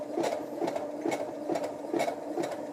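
Brother CS 6000i sewing machine stitching a zigzag, a close, even mechanical chatter pulsing about twice a second with no voices.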